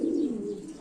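A single short, low, throaty coo from a pigeon in a loft, close and clear, fading slightly as it ends.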